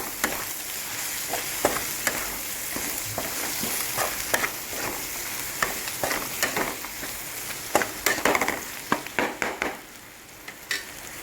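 Chopped onions, ginger and garlic frying in a pan are stirred with a spatula: an even oily sizzle broken by irregular scraping strokes, close and clear, with no talking.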